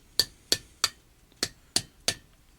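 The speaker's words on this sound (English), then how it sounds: "at this stage, I'll continue working with the chisel" A hammer strikes a chisel into stone in six sharp, ringing metallic taps, evenly spaced apart from a slightly longer pause midway, close and distinct with no voices.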